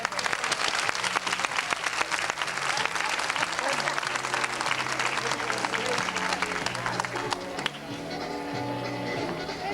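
A studio audience breaks into dense, sustained applause after a magic trick, loud and continuous throughout, with a rhythmic music bed underneath and a slight drop in intensity near the end.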